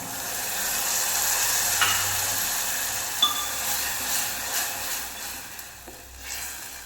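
Snake gourd cooking in a pan as boiled, cooled milk is poured in, a soft continuous sizzle and bubbling with a couple of light metallic clinks, no talk.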